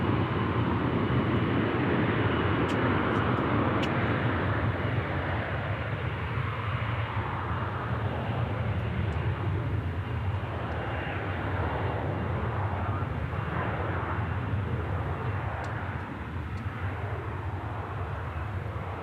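A jet airliner roars steadily during takeoff at DFW airport, a broad, continuous engine rumble heard from a distance that holds for nearly twenty seconds and eases slightly toward the end.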